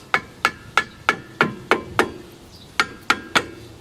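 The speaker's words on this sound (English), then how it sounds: "Tap it with a screwdriver, which is fine, and it'll just bottom out, or you can use a hammer." Sharp metallic taps of a hammer seating car brake pads into place, about a dozen evenly spaced strikes with a brief pause midway, close and clear with no talking.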